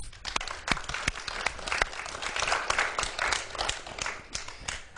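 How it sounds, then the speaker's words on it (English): A studio audience applauds during a warm-up for the National Bantaba Forum, with a dense, steady stretch of clapping that holds at a fairly even level throughout and has no talking over it. "please clap for yourself"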